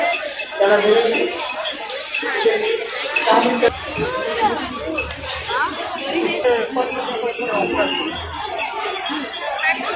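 Dense, steady crowd chatter with scattered laughter around the food stalls at the Bhimthadi rural culture fair, many overlapping voices close by with a long queue for puran poli.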